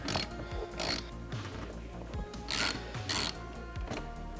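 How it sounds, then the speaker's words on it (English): A wrench ratcheting as it loosens the battery terminals on a 2022 Subaru WRX, giving several short close clicking bursts with brief pauses between them, no talking. "so we'll start with removing the battery terminals"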